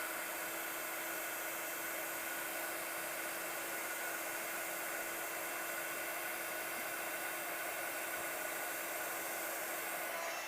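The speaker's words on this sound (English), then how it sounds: "we're going to take our heat tool and we're going to heat up" Craft heat tool blowing continuously to heat a stamped image for card making, a steady, loud hair-dryer-like whoosh with an even hum throughout, no voices.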